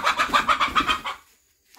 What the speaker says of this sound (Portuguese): Ô, galinha.